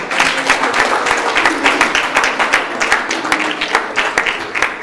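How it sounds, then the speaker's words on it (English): Loud, dense applause from an audience at a Gopashtami gathering, a continuous wash of many hands clapping for several seconds without pause. "give them a big round of applause."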